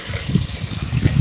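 Garden plants being watered at a home in India on a sunny day, a soft gushing flow of water with gentle pulsing splashes, close and steady throughout.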